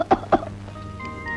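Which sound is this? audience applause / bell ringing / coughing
coughing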